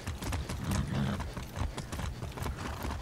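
A horse's hooves clip-clop in a steady, close trot in the video game Far Cry 6, with the even rhythm carrying throughout and no talk over it.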